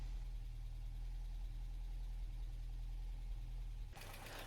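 A Humber Sceptre Mk3 car engine idles slightly fast with a steady, close low rumble and no talk, until a brief burst of broadband noise near the end.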